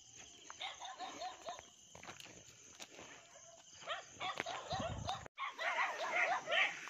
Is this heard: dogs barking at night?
yes